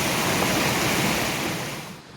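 River water rushes steadily under a bridge near an old water-powered gunpowder factory, a loud, broad, continuous roar that eases slightly toward the end, with no voices.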